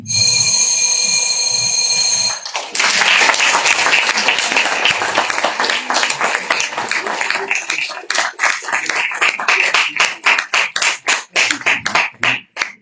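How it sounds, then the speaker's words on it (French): An audience applauds at a Francophonie award ceremony, hearty clapping that starts right after a ringing tone and continues for several seconds before thinning into scattered individual claps. "Donc ça mérite des applaudissements."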